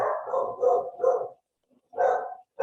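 Dogs bark during an indoor meeting, a run of loud close barks followed by a pause and then another bark, with a brief whimper-like sound in the gap.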